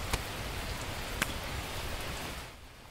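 Rain in the survival video game The Last Plague: Blight, a steady hiss of falling rain with a couple of brief drip ticks, fading slightly at the end.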